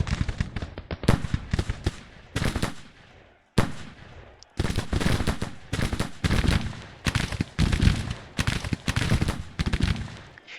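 Artillery cannon fire in a Grand Tactician: The Civil War battle, a loud, dense series of booming blasts and crackling bursts with brief gaps between volleys, no voices.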